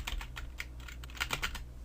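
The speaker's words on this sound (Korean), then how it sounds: "키보드상에서 한글 입력키를 누른 상태에서" Keys clattering on a computer keyboard in an irregular burst of close, fairly quiet taps while entering Korean text into After Effects 2020, with no voices present.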